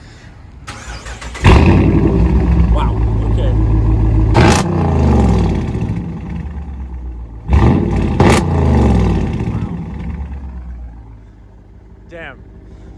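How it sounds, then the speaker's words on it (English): A straight-piped car engine roars loudly close by, revving hard in two bursts with a harsh, raw exhaust note, while a person speaks briefly under the noise. "I need to hear the exhaust."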